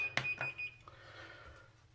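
A multimeter gives a short, sharp electronic beep during a continuity test, followed by a second fainter tone against quiet room noise.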